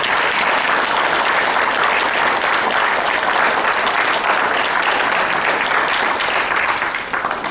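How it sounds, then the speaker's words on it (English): Steady, loud audience applause at a 2015 school district candidate forum, a dense wash of clapping that holds evenly throughout and tapers only slightly at the very end. "How about a round of applause for all of our candidates here?"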